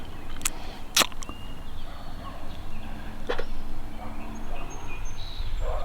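Wild turkeys gobbling across a Kentucky farm field on the eve of spring season opening day, with a few sharp, fairly distant calls standing out over steady outdoor background noise.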